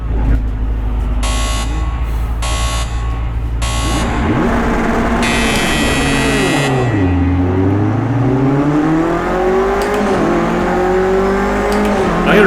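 A race car engine in the Project Cars 2 video game fires up amid short electronic starter tones, then revs up and down with sweeping pitch changes, loud and steady throughout the clip.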